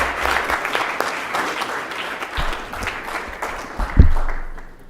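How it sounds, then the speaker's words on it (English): A school board meeting audience gives one more round of applause to students being recognized, moderate clapping that thins and fades over a few seconds with a couple of bumps near the end. "let's give them one more round of applause"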